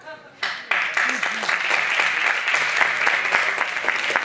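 Light, scattered applause from a small audience after a magic trick with a deck of cards, steady clapping for several seconds with some voices mixed in.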